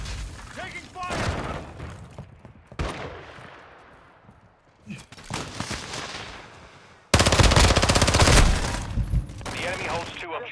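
Video game battle with machine-gun bursts, scattered gunshots and explosions, building to a loud, dense barrage of automatic fire in the final seconds, with voices calling out in the mix.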